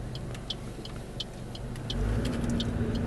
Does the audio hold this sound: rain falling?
no